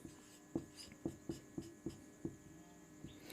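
Pen or chalk writing out case 3 of a maths proof, a quiet run of seven or so short, evenly spaced taps and scratches in a soft rhythm, close and with no talk.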